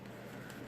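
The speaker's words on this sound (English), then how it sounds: "Please excuse my birds," Pet birds cooing indoors, a soft dove-like call running steadily through the short moment, faint and close with no talk.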